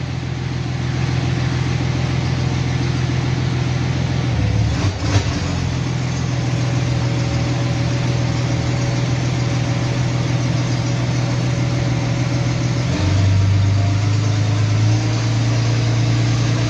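Car engine running steadily as the vehicle is lowered and driven after a transfer box fix with a gearbox fault, a loud continuous drone with low hum shifting pitch twice, heard close and alone.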